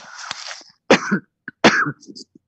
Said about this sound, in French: lorsqu'on tousse, si on n'a pas ça, on peut juste tousser dans le coude, comme ceci